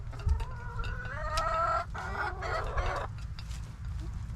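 A chicken squawks and clucks in a few agitated bursts, fairly close, over a low steady background hum.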